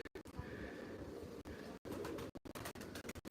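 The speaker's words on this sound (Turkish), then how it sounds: "Alan doldurmak için biz bakın kuşları gösteriyoruz" Pigeons or doves cooing nearby during an outdoor live stream, a steady low murmuring coo broken by short gaps, with no talk over it.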